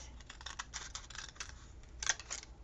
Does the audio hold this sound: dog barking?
no